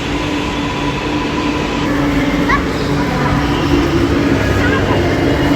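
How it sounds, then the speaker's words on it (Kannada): A Chennai metro train pulls into a station with a loud, steady rumble and a faint whine that hold for several seconds, while voices murmur faintly underneath. "ಮೆಟ್ರೋ ಟ್ರೈನ್ ಬಂತು ಹುಷಾರಲ್ಲಿ ಟ್ರೈನ್ ಬಂತು"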